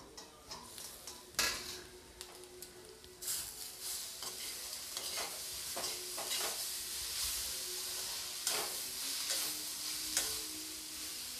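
Cabbage frying in a pan for a stuffed cabbage paratha: a soft, steady sizzle with frequent clinks and scrapes of a spoon stirring against the pan, close and alone with no talking.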